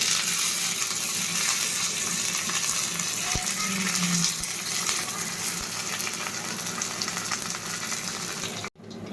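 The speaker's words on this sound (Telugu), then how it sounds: "క్రష్ చేసుకున్న ఎల్లిపాయ కొంచెం ఫ్రై అయితే చాలు" Crushed garlic, dried red chillies and curry leaves fry in hot oil for a dal tempering, giving a steady, close sizzle with a few light clicks and taps, and a brief thump near the end.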